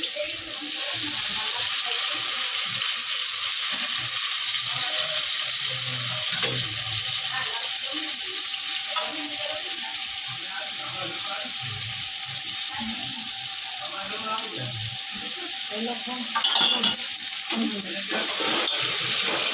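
Tomatoes sautéing in a pan with salt and lemon juice give a steady, close sizzling hiss that runs without a break, with a few soft clinks and stirring sounds.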